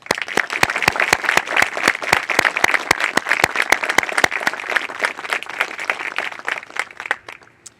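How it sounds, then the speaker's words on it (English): An audience applauds students at a military ceremony, dense steady clapping with sharp individual claps standing out, sustained for several seconds before thinning out near the end. "Please give one more round of applause to these fine students and their wonderful families."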